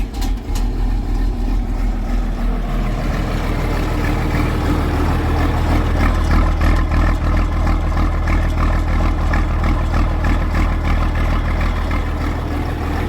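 An old Chevy Avalanche truck engine idles to warm up, holding a steady, loud, close rumble with a rhythmic mechanical chug throughout and a small rise in pitch early on.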